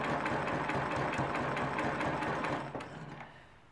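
Sewing machine stitching a quilt row, a fast steady mechanical whir with rapid needle rhythm, close and loud, slowing and fading out near the end.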